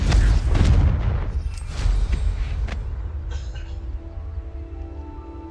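A Confringo fire spell explodes in the Hogwarts Legacy video game, giving a loud booming blast at the start followed by a few further thuds and crackles, then a lingering rumbling tail with a faint tone.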